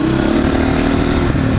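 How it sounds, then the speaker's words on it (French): A Honda CRF 450 supermoto, a motocross-derived single-cylinder bike, runs loud and close in a brief burst of throaty, pulsing engine noise with slight revving. "c'est un 450 dérivé du cross monté en super motard."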